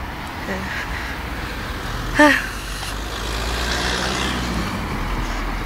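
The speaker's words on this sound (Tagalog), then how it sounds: "Maraming sasakyan." Road traffic with many vehicles passing, a steady rumbling wash of engines with a short honk-like tone in the middle and nearby voices talking over it.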